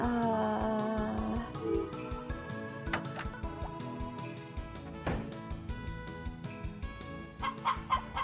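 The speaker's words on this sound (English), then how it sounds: "Oh my god, so many chickens!" Chickens cluck in the PS1 farming game Harvest Moon: Back to Nature, a busy run of clucks mixed into steady game music that stays loud throughout, with no talking over it.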